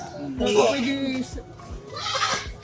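Goats bleat on a small farm, giving several wavering calls close by, mixed with people talking.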